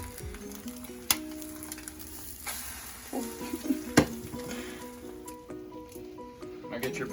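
Egg frying in a pan for a bacon, egg and cheese sandwich, giving a steady soft sizzle with a few sharp clicks and scrapes as it is checked and stirred, moderately close.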